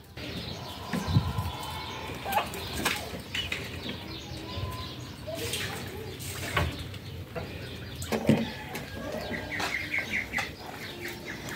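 Ducks in their pen at feeding time, with busy overlapping quacks, calls and wing flaps close by and continuous throughout, together with scattered chirps from other poultry.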